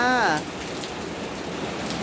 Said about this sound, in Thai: ฝนตกนะคะ ตอนนี้ก็พายุเข้าอีกแล้วนะคะ